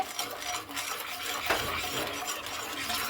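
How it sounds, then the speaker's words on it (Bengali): Watermelon rind juice with sugar being stirred in a pot, a continuous close scraping and clinking of a spoon against metal with a soft bubbling wash underneath. "এবারে চিনিটা দিয়ে সেই তরমুজের রসটাকে দিয়ে খুব ভালো মতো করে এইভাবে নাড়াচাড়া করে নিচ্ছি"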